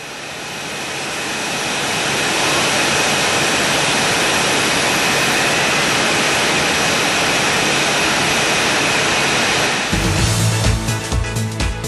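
Engine number 1 of a Boeing 737 starts up, heard from the cockpit: a jet whine and roar builds over about two seconds to a loud, steady rush, then a few sharp clicks and knocks sound near the end.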